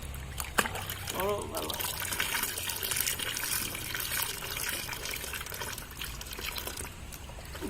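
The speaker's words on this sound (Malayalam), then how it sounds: "വെള്ളം നിറയ്ക്കുക" Water pours and trickles into a plastic bottle being filled for a homemade bottle rocket, a steady liquid wash running under nearby talking throughout.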